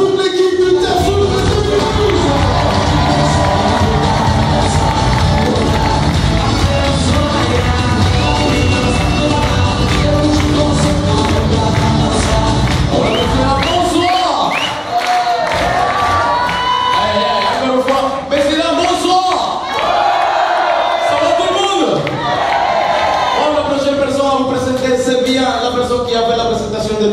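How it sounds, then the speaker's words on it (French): A loud hotel audience at an Agadir resort cheers, whoops and claps continuously for the entertainment team, a dense crowd roar with shouting voices over it throughout. "Un tonnerre d'applaudissements pour toute l'équipe du Tafou de"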